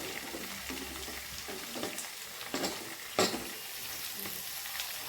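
Steady frying sizzle from a pan with onions, green chillies and ginger for masala dosa filling, broken by occasional scraping stirs; close and continuous, no voices.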